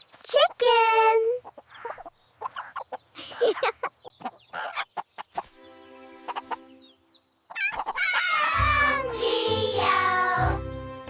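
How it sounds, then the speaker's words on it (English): A cartoon chicken clucks and crows in a kids' farm-animal cartoon, short bright calls alternating with cheerful speaking and singing voices, followed by a louder burst of animal sounds near the end. "This is a chicken."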